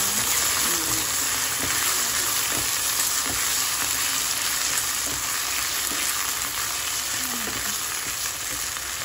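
Beef tongue sizzles steadily in a hot pan as cream of mushroom goes in, a close, constant frying hiss with a few stirring knocks under occasional talk.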